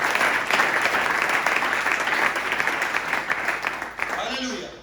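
A church congregation applauds steadily and loudly throughout, a dense wash of clapping that thins slightly near the end as a voice begins to rise over it.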